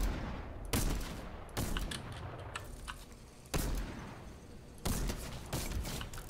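Fortnite gunfire: a handful of sharp, loud shots spaced about a second apart, each ringing briefly over a steady game backdrop.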